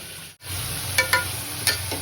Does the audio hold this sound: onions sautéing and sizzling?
yes